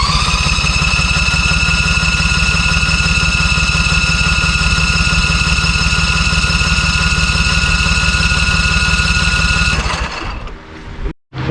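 The replacement engine of a ZT200 mower runs loud and close with a steady, even drone for about ten seconds, then sputters and cuts out near the end.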